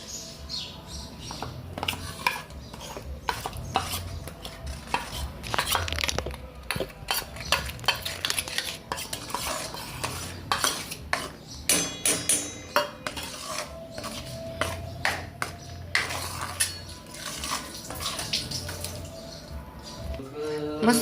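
A spiced masala paste is stirred into hot oil in a pan for restaurant-style chole, with a continuous busy run of spoon scrapes and pan clatter up close, while a voice talks over it.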